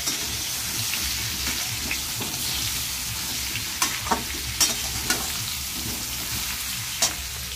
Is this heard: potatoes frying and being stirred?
yes